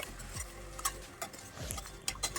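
Mixed vegetables being stirred in oil inside a pressure cooker for pav bhaji, with scattered scraping ticks and clinks of the spoon over a quiet sizzle.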